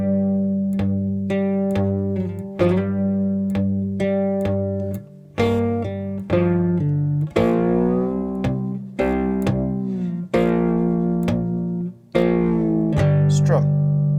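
Three-string cigar box guitar playing a blues rock line, bars five and six, with a repeating riff of plucked bright notes and slides, close and loud, each phrase restarting on sharp attacks.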